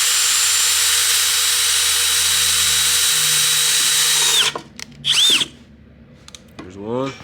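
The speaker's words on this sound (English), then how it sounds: "we just take a drill bit that's about the size of that rivet, and we knock the head off that thing" A power drill with a bit about the size of a rivet drills the head off an oil pan rivet on an HD Silverado/Sierra 4WD truck. It whines loudly and steadily for several seconds, then stops, followed by short bursts of revving.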